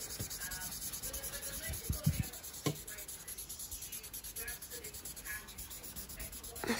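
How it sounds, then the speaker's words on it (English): Long pencil strokes scratch steadily across paper while an eye is drawn, a close, continuous rubbing texture with brief soft taps and shuffles partway through. "Now just do some nice long pencil strokes and blend it in again."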